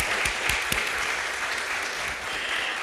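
An audience at a startup accelerator event applauds, a dense, continuous wash of clapping from many hands with a few sharper claps standing out near the start.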